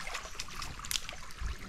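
River water flows and trickles near a forest campsite, a faint, busy burble of small splashes close by.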